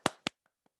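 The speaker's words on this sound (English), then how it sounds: "I think we should clap" Two loud, sharp hand claps close by in a classroom, followed by two much fainter claps, a short sparse burst rather than full applause.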